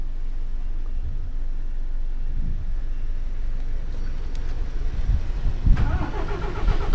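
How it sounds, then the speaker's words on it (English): A Vauxhall Corsa's engine is started, heard from close by as a low, continuous rumble. A louder burst comes near the end as the engine catches. "Now let's jump in and take it for our drive."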